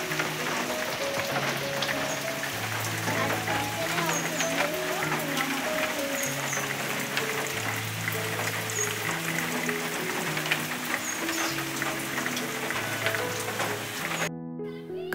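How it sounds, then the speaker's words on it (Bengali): Heavy rain falls outside a home as an even, continuous hiss, heard under a soft melodic music bed. "এদিকে বৃষ্টিটা কিন্তু বেশ বেড়ে গেছে"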